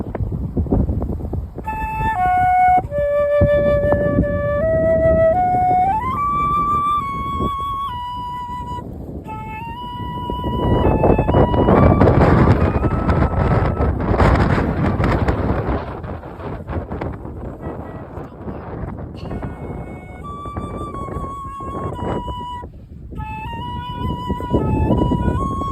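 Wind buffets a microphone outdoors in the Scottish mountains while a cold flute is played without a windscreen. Loud, steady rumbling gusts swell midway and largely swamp the thin, wavering flute notes.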